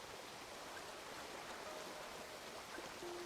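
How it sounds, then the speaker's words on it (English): Steady rushing water noise, a broad constant roar of falling water with no pauses, moderately loud and even throughout. "The sound of waterfalls has a very soothing effect."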